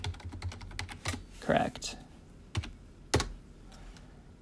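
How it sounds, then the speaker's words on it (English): Keys clatter on a computer keyboard in short irregular bursts, close by, with a few louder key strikes and a voice speaking briefly over the typing. "hit tab, and type in AI color"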